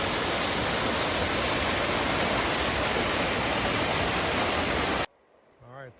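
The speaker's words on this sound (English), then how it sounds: "Just wanted to show you this little waterfall." Small waterfall on Turnpike Creek in winter wilderness, a loud, steady broadband rush of falling water close by that fills most of the clip and then cuts off abruptly, leaving a brief quiet stretch with a faint voice.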